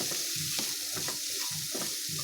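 Grated carrot curry is stirred in a frying pan over a low flame, a spoon scraping in steady repeated strokes roughly every half second above a constant soft sizzle, close and clear with no talking.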